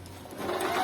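Singer Simple 3210 domestic sewing machine stitching fabric at medium stitch length, a close, steady mechanical whirr that builds slightly in loudness over a brief moment, with no talking.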